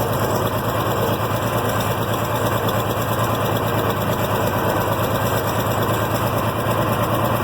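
An IH Farmall 706 tractor engine runs steadily and loudly across a field, a constant close rumble with no pauses and no voices.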